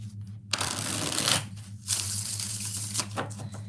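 Oracle cards being shuffled by hand, several rapid papery riffling bursts with brief pauses between them, close and fairly loud, with no talking.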